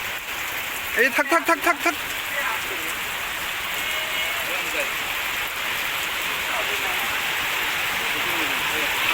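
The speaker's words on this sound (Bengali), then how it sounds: "বৃষ্টি হয়ে লাগছে, কি করবেন বুদ্ধি?" Heavy rain pours down outdoors as a steady, loud wash of noise. A person calls out briefly early on over the downpour.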